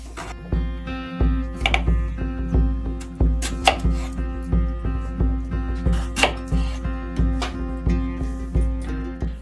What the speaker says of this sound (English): now I'm going to slice them for the fish pie.